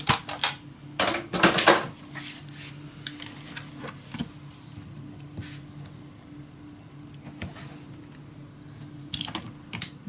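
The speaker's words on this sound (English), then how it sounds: "And then we score 1/2 inch." Paper being scored at half-inch intervals for a steampunk Christmas letter craft, a series of close, irregular scraping and tapping strokes with short pauses between them.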